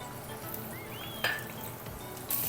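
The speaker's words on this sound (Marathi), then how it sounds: "हे बघा तेल मी कढईमध्ये घातले. आता याच्यामध्ये कांदा आणि टोमॅटो आणि मस्त शिजून घ्यायचं." Onion and tomato sizzle in hot oil in a kadhai, a steady close frying hiss with a brief metallic clink of a utensil partway through and a brighter burst of sizzle near the end.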